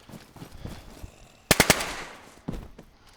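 Gunfire in the video game DayZ: a rapid burst of three sharp, loud shots, then a single further report, with quieter handling noises between them.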